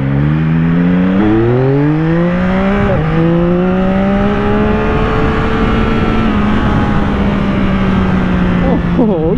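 A 2023 Yamaha XSR900 motorcycle on a test ride in its most powerful riding mode pulls hard, engine pitch climbing through the gears with brief dips at shifts, loud and close over wind rush.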